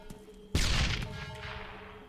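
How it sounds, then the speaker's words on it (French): A grenade detonates in Arma 3 with a sudden loud broadband blast after half a second of quiet, followed by a long rumbling, debris-filled decay that fades gradually without any talk. "Je vais peut-être tenter de balancer une grenade."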